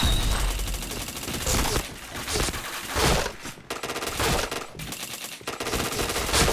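Rapid video-game gunfire fills the stretch, dense automatic bursts and shots repeating in clusters with brief gaps, loud and continuous with no talk over it.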